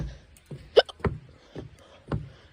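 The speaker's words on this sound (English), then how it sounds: "I had the hiccups." A person hiccupping near a nature-area bridge, several sharp hiccups at irregular intervals, close and fairly loud.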